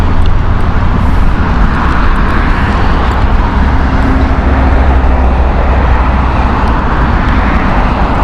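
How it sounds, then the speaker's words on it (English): A Scandinavian Airbus A320neo on a Stockholm flight at Heathrow produces a loud, steady jet rumble that holds throughout with broadband noise and no talk over it. "Scandinavian Stockholm flight, Airbus A320 Neo"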